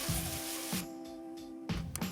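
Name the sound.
Crenova garden hose nozzle spraying, centre circle spray setting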